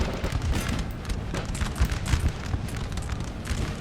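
A ragged volley of musket fire from massed infantry in a Napoleonic battle game, dense overlapping cracks and booms rolling over several seconds with no speech.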